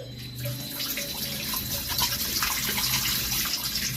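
Tap water pours steadily into a Brita XL water filter, a constant rushing gush that stays loud and close for the whole stretch, with no talking.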